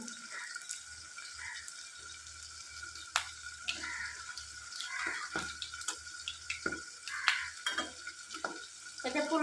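Panch phoron spices fry in oil in a village kitchen pan alongside puti fish, a low sizzle with scattered crackles, stirring scrapes and clinks, fairly faint and close.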